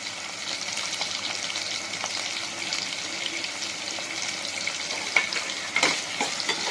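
Green chillies cut lengthwise and curry leaves frying in hot oil in a pan for a small onion gravy, a steady close crackling sizzle with a few sharper pops and stirring clinks toward the end.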